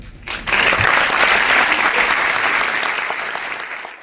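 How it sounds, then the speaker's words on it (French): An audience at a film premiere of La mante religieuse bursts into dense, sustained applause after a brief pause, staying loud and full before easing off slightly toward the end. "merci de l'applaudir"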